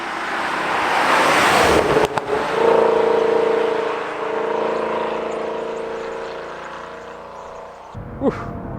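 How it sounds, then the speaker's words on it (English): A 2007 Mercedes CL63 AMG engine revs and drops off, with exhaust burbling and popping on the overrun and a sharp crackle near the end. "there's a lot of burbles on the overrun as well"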